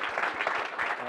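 Seminar audience applauding the presenters of a talk on sustainable tall-timber high-rise buildings, a short steady patter of clapping with a faint voice underneath.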